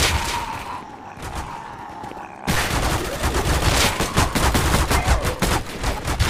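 Rapid gunfire rattles in a zombie survival video game, with dense bursts of shots that grow louder and more continuous midway through, with no speech over it.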